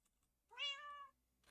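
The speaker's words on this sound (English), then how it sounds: "Meow." A black cat in the video game Minecraft gives a single clear meow, followed by faint computer keyboard typing.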